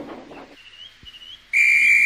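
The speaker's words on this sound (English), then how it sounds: "Oh, that's my guard's whistle." A train guard's whistle shrills out loud and steady near the end, after a fainter, wavering whistle tone over a soft hiss.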